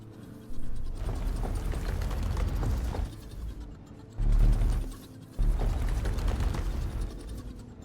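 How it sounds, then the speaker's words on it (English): Crank generator machinery in the factory game Techtonica, a loud grinding, ratcheting mechanical churn in three long bursts separated by short dips. "These crank generators are toast."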